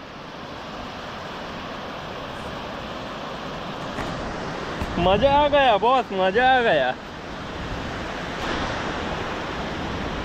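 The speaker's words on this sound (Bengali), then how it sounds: "ঢেউ দেখো, ঢেউ" Sea waves wash steadily at New Digha beach, a continuous broad surf roar with wind, interrupted midway by a few seconds of loud excited speech close to the microphone.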